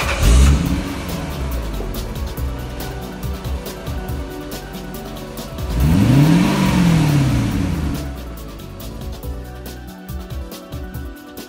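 A 2005 Lexus SC430 with its 4.3-liter 32-valve V8 revs up in one sweeping rise and fall midway, heard close over a steady idle with no talk.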